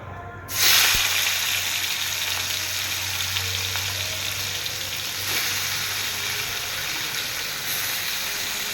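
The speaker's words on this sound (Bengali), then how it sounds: "তেল গরম হয়ে গেছে আমি এবার মাছটা মধ্যে ছেড়ে দেবো" Shrimp dropped into hot oil in a wok burst into a sudden loud sizzle that settles into a steady, bright, continuous hiss, close and with no one speaking.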